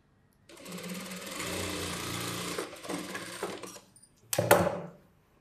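A sewing machine runs steadily for about two seconds while stitching a boat neck blouse, then gives a few shorter bursts before a sharp closing clatter.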